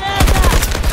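Rapid automatic gunfire in the video game Battlefield 2042, a loud close burst of evenly spaced shots fired in quick succession for about a second.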